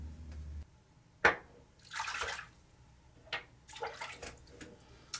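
Tap water runs in short splashy bursts during a razor shave on a hot day with a Mühle R41 safety razor, quiet and close, with a couple of separate gushes and rinsing splashes.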